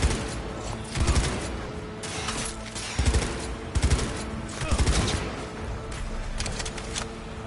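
Bursts of gunfire from the video game Cyberpunk 2077, played on a base PS4, crack out in repeated clusters over a constant mechanical din. A voice speaks faintly underneath.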